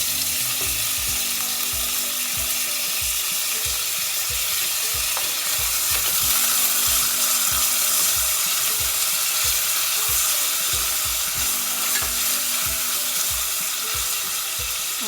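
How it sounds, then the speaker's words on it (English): Onions frying in a pan as the base for a lamb and vegetable stew, a loud, steady crackling sizzle with a faint scrape of stirring running throughout. "So our onions are really frying well."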